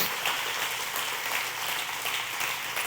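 Church congregation applauding during a Spanish-language sermon, a steady, dense wash of clapping that fills the whole stretch without pauses or talk.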